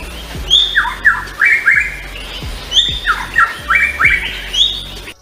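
A rare mimicking songbird singing repeated bright, squawky warbled phrases in bursts, loud and near, with short gaps between phrases and faint low thumps underneath.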